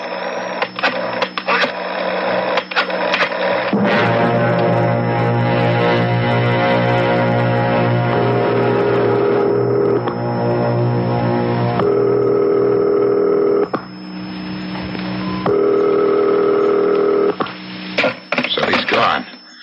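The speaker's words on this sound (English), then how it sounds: "Dial. I'll call his private number." Telephone dialing in a CBS radio mystery drama: rapid rotary-style clicks and tones, then long steady ringing tones broken by short pauses, with brief clicks at the end, loud and close.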